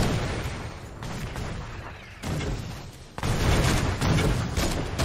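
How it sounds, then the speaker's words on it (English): Explosions from the Lunar Shotgun in Fortnite Save the World burst in quick succession, loud booming blasts with crackling debris that surge and fade in several waves, with no talk. "You can have the explosions happen around him and do damage."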